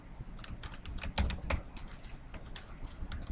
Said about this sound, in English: I'm going to go ahead and type that in just so you can see the next screen.